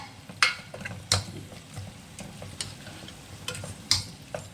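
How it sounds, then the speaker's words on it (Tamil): A spoon stirs mutton masala and chilli powder through a sizzling pan, giving sharp intermittent scrapes and taps over a low frying hiss, close and fairly quiet. "மட்டன் மசாலா, இதோட மிளகாத்தூள் காரத்துக்கு ஏற்ற போல் சேர்த்துக்கிட்டு நல்லா மிக்ஸ் பண்ணிக்கோங்க."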